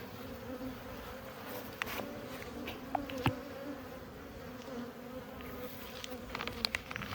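A strong honeybee colony hums steadily inside an opened hive being fed fondant in winter, a close, continuous drone broken by a few sharp clicks and knocks.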